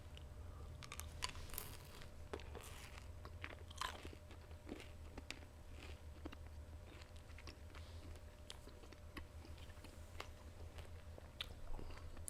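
Gum chewing of Mentos gum close to the mic, soft sticky crunches and small clicks repeating irregularly throughout, fairly quiet, with no talking.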